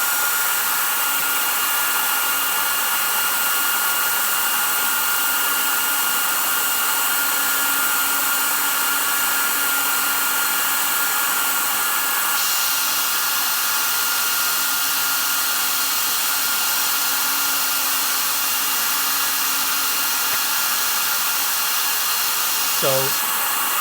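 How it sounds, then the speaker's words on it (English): A hair dryer blows steadily and loudly over wet watercolor paint on paper, a continuous high whooshing drone that holds for the whole stretch with a slight shift in pitch midway. "So I'm going to dry this one so I can do some dry scraping into it."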